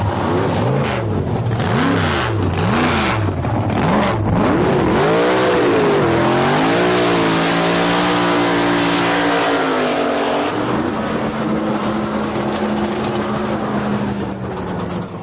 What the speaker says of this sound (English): These cars leave the starting line about, I'd say 4 Gs it seems to be on my computer.